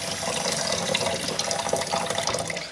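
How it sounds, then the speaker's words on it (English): Tap water runs steadily into a sink while coconut shell halves are scrubbed clean for an aquarium cave, a continuous splashing patter close by with no voices. "Turn the water off"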